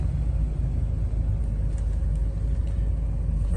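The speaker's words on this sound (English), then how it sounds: "We're idling perfect." A Ford truck engine idles at a stop sign, a steady, close low rumble that holds even throughout, with no speech over it.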